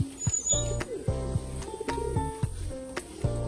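Flying pigeons in a loft give low cooing calls among sharp, clanging intermittent knocks and tonal noises, fairly close and uneven in rhythm.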